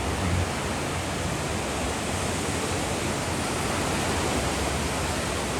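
Sea waves wash steadily onto a beach in a constant, loud, broadband surf roar with no pauses, close by and filling the whole scene without any voices.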